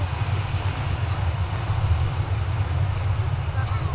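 Ryanair UK Boeing 737 at Manchester Airport, a steady low jet engine rumble holding at moderate distance without change, with a person talking over it.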